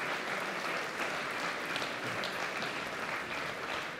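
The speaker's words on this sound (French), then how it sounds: "Voilà, ils applaudissent le public, bravo à eux." Spectators applaud at the end of a professional padel match at the Human Padel Open, a dense, steady wash of clapping from a crowd that fills the whole stretch without a break.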